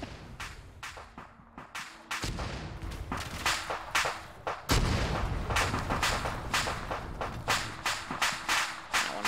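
Artillery strikes from a called-in fire mission in a military video game, hitting a tower: a dense run of loud, sharp blasts and cracks repeating every half second or so, with heavier booming impacts rolling in partway through.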